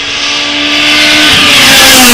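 A Honda rally car engine revs loudly at close range, one continuous rising howl climbing steadily in pitch and volume with no talking.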